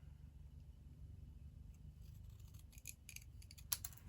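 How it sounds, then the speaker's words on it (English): Scissors cut a straight line through paper for a handmade stamped card, a quiet room hum first, then a run of crisp snipping and rustling strokes in the later half, close and faint. "But what I'm going to do is I'm going to cut straight."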